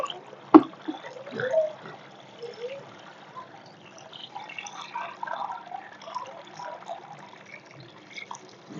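Water is poured gently onto the soil of a potted lotus with a hand shielding the flow. It makes soft, quiet trickles and scattered drips, with a sharper splash near the start.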